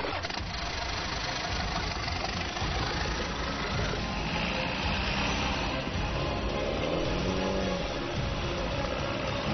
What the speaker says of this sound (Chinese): 一下水，水就没过了汽车的发动机，雨林车如同一叶扁舟在水中航行